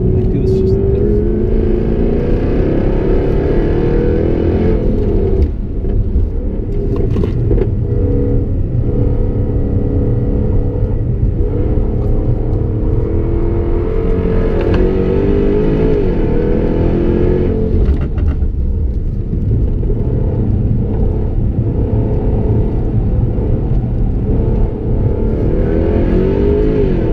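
Jaguar F-Type R accelerating hard in third gear on a figure-eight track, a loud continuous engine roar with rising and falling pitch as revs climb and ease, sustained throughout at close range.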